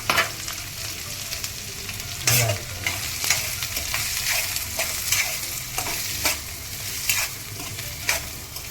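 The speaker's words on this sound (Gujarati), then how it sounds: "બ્રાઉનિશ થાય ને ત્યાં સુધી એના સાતળવાના" Three chopped onions sautéing with cumin seeds in a pan until brownish, a dense continuous frying hiss with repeated spoon scrapes and clinks at irregular intervals, close and fairly loud, no talk.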